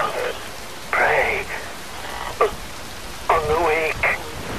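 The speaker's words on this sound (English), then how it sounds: "Wind blows, rain falls." Rain falls with gusting wind in the video game Metal Gear Rising Revengeance, a steady broadband hiss running beneath a voice that talks across most of the stretch.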